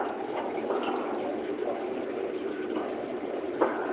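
A tap runs steadily while lettuce leaves are rinsed, a continuous close splashing wash of water with small shifts in the flow and a faint knock near the end.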